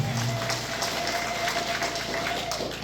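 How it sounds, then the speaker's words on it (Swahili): A church congregation claps for Jesus during a Swahili sermon, a steady dense wash of hands in a large room. The applause stays even throughout, with a sustained tone ringing behind it. "Pigia Yesu makofi kama uko hapa"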